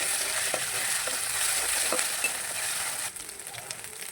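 Onion and ginger-garlic paste frying in oil, a dense, close sizzle with occasional stirring scrapes, steady throughout and easing slightly near the end, with no talking.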